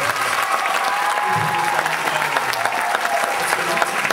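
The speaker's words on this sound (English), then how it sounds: "Let's please put a round of applause." Audience applause at a Young Life banquet in Brazoria County, a steady wash of clapping with a few faint voices mixed in.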